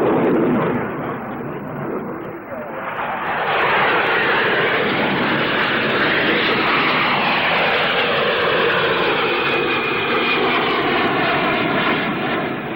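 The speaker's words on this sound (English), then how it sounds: "the P-1127, powered by a vector thrust turbofan engine, shows its faces with a neighborly Hunter and demonstrates its high rate of climb and maneuverability." A Hawker P.1127 jet with a vectored-thrust Pegasus turbofan roars past at the 1962 Farnborough air show, a loud, sustained jet whine and rumble that swells as it passes close.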